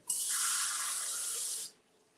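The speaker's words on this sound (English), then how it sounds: "So I'm gonna put some tap water in here." Tap water gushes from a kitchen faucet into a container, a steady bright hiss lasting under two seconds before cutting off abruptly, close and alone.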